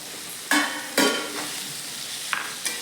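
Green peas and paneer stirred in hot oil in a pan for matar paneer pulao: a soft steady sizzle broken by a few distinct spatula scrapes and clanks, close by, no voices.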